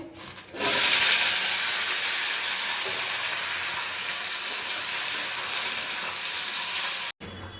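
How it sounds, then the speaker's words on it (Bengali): Potatoes frying in a pan in a home kitchen give a loud, steady sizzle that starts abruptly after a brief quieter moment and holds evenly for several seconds before cutting off. "আলু ভাজাটা চাপাই"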